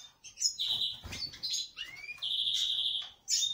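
A small bird chirps and tweets repeatedly while held in the hand during tame-training, with sharp, bright calls in quick bursts separated by brief pauses, up close and fairly loud with no talking.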